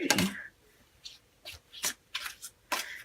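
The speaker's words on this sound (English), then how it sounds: "I'm going to just do a quick shuffle." Tarot cards riffled and shuffled up close, a burst of crisp flutters followed by several short shuffling bursts with brief pauses between them.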